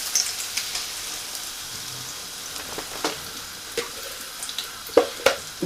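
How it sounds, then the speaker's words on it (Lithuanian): Beaten egg mixture for an omelette sizzling in a heated frying pan, a soft continuous hiss close by, punctuated by sharp pops and crackles that grow more frequent toward the end, with no voices. "Įkaitusi keptuvę ir"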